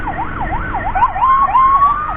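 A loud ambulance siren wails in rapid up-and-down sweeps during an emergency escort, then shifts into longer rising tones, with traffic rumble underneath.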